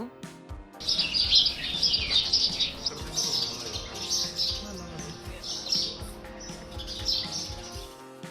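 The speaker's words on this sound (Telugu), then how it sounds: "చూసిరు కదా మంచిగా ముద్దు ముద్దు ఉన్నాయిలే చిన్న చిన్న పిచ్చుకలు." Many small birds chirp and twitter continuously, a busy overlapping chorus of sparrow calls close by, with no voices.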